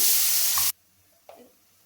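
Spice paste hits a hot wok for an egg curry and gives a loud, close, hissing sizzle. It cuts off sharply after under a second, followed by quiet and a faint scrape.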